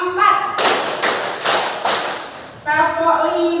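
Children in a classroom clap hands together in a counting clapping game, four sharp group claps in a steady rhythm, with a teacher's voice speaking before and after.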